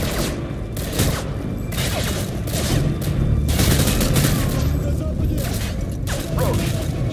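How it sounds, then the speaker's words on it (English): Dense automatic gunfire from the video game Call of Duty: Modern Warfare 2 rattles continuously during a prison assault mission, sustained and loud with layered bursts and booms throughout. "suppressing fire"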